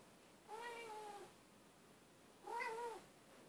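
A Ragdoll cat gives two drawn-out, plaintive meows about two seconds apart, fairly soft and close against a quiet room background.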